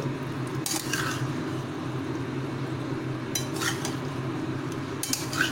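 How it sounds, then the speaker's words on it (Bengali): Masala for a paneer curry is stirred in a pan, with a soft continuous frying sound beneath repeated scraping and clinking of a utensil against the metal, in a few distinct bursts. "এবারে ভালোভাবে মশলাটাকে দিয়ে কষিয়ে নেব, ভালোভাবে মিক্স করে নিচ্ছি।"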